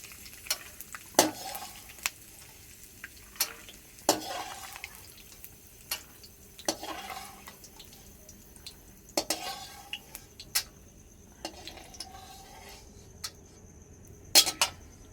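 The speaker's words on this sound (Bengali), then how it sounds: "বাদাম ভাজা হয়ে গেছে, এবার তুলে নেব।" Roasted peanuts scooped out of a frying pan, with sharp scraping and clinking strokes of a metal spoon against the pan at irregular intervals over a quiet sizzle, close and moderately loud, no talk.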